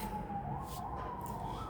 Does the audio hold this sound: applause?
no